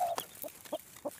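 A hen that has hatched chicks in the brush gives a few soft, short clucks spaced apart, faint and near, over quiet outdoor background.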